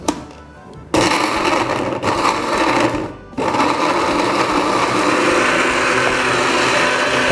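A kitchen blender whirs loudly and steadily, its motor briefly cutting out twice before running on continuously with a dense, high-pitched grinding drone.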